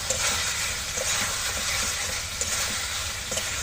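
Pumpkin and potato sauté in a pan for a village-style shukto, a dense, loud, continuous sizzle with faint stirring, heard close and without any voices.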